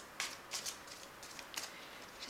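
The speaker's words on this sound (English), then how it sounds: "Just give it a quick shuffle." A Fairy Oracle deck of oracle cards is given a quick shuffle, producing faint, crisp riffling flutters in a few short bursts close by in a quiet room.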